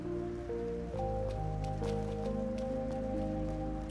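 Steady rain falls in the video game Trails Through Daybreak, a soft, continuous patter spread evenly beneath sustained melodic game music.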